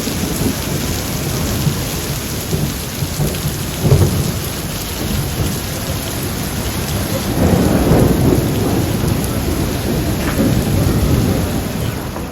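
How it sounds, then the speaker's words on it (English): Heavy tropical rain pours down in Singapore, a loud dense hiss close by, with deep thunder rolling and swelling in the middle and later on, no voices. "now it's like this crazy rain"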